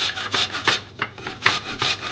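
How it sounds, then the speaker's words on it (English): Peeled, quartered Golden Delicious apples rubbed against a hand grater, a rhythmic series of close rasping strokes, about eight in quick succession, with no talking. "Now we're going to just take the grater and grate these apples."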